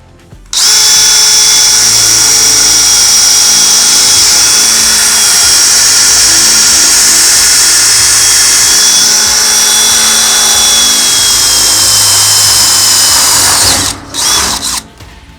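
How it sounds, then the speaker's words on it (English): A power drill with a 5/16 inch bit bores through the sheet-metal side of a RAM ProMaster City van, a loud continuous high whine running steadily for about thirteen seconds before stopping abruptly. "I'm just going to be using a 5/16 inch drill bit here. I'm going to go right through the side"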